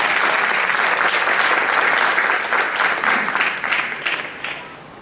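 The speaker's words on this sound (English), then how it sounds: "So please, a nice round of applause for contestant number two." An audience at a state fiddle championship claps for a contestant, a dense, loud round of applause that holds steady and then slowly thins out toward the end.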